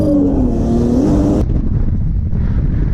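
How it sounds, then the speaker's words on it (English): A Toyota Cressida drift car revs hard through a drift, its engine note climbing then cutting off abruptly, leaving a rough, loud rumble of engine and tire noise up close. "Nice and controlled drift on the first clipping point."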